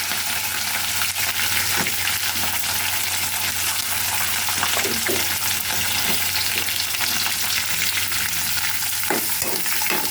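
Onions, green chillies and curry leaves fry in hot oil with a steady, close sizzle, broken now and then by the soft clink and scrape of stirring.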